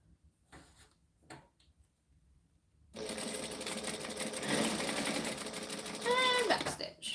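A sewing machine stitches a handbag in a fast, steady run of needle clatter lasting several seconds, with a brief whirring change near the end, following a quiet stretch of faint handling noises.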